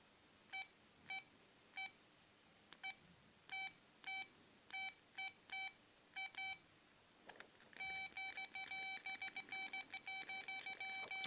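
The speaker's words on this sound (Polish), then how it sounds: "klawisze są dość spore i dość miękko się naciska, więc dość ciekawie się tutaj pisało SMS na tym telefonie" Keypad beeps from a 1997 Motorola StarTAC Rainbow mobile phone while an SMS is typed: clear, close electronic tones, first spaced singly, then fired off in quick dense runs near the end.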